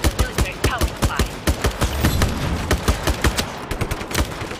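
Gunfire in Just Cause 3, with loud, sharp shots fired in rapid, uneven bursts close by, some spaced and some clustered, amid a brief rumbling stretch.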